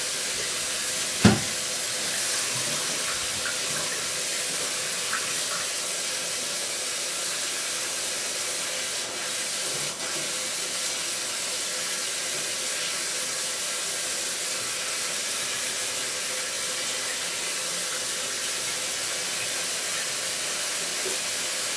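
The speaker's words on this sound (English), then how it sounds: "I'm just going to quickly rinse those off." Running water rinses alum-mordanted yarn during natural dyeing, a steady broad hiss that holds for over twenty seconds after a single sharp knock near the start.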